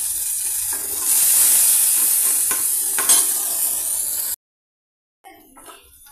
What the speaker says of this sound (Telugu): మన పోపు చక్కగా ఫ్రై అయిపోయిందండి.